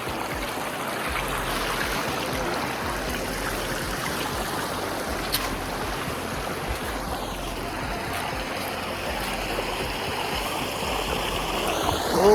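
Water from a mountain waterfall and stream rushes in a steady, unbroken wash that stays loud and even from start to end, with no voices over it.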